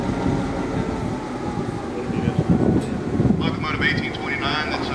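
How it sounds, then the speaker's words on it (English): A GP7 diesel-electric locomotive hauls a museum excursion train, giving a continuous rumble and rolling rail noise from inside the cars, with someone talking over it throughout. "Locomotive 1829 that's pulling our train today is a second-generation diesel-electric locomotive known as a GP7"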